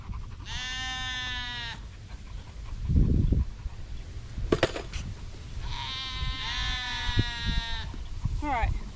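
Sheep bleat loudly while dogs herd them on a farm, two long wavering calls separated by a burst of rustling and panting, with a short bleat at the end.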